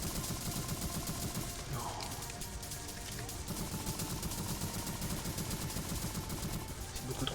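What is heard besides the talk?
gunfire in a video game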